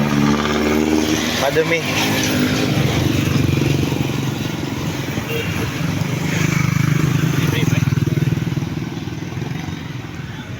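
A motorcycle engine drones steadily while riding on a muddy road, with a low rumbling hum and rattling, as a voice speaks briefly over it.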